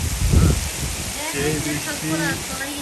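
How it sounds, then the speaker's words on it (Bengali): Heavy, continuous storm rain falls from a steady downpour that began overnight near a riverside. It makes a dense, unbroken hiss throughout, with a voice talking over it. "বৃষ্টি হচ্ছে রাত থেকে শুরু হয়েছে টানা বৃষ্টি"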